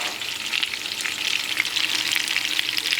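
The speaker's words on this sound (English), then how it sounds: "Sizzly." Meatball sauce sizzles loudly in a hot pot on the stove, a dense, close crackling hiss with busy spattering, steady throughout and free of speech.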